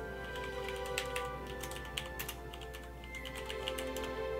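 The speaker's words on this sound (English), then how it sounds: "Probably hear me typing like a boss." Fast typing on a computer keyboard, a quiet, rapid run of close key clicks with an irregular rhythm and low background hum, no talking.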